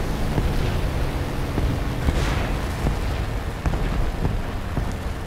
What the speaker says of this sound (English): German cannons doing some work on a Japanese plane.